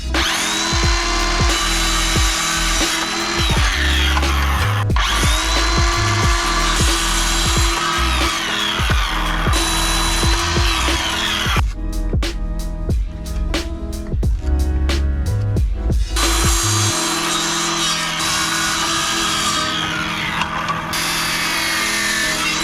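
A power saw cutting a 2x2 wood piece lengthwise down the middle, loud buzzing bursts with rhythmic stops and starts, then a rapid series of short clicks before the cutting resumes.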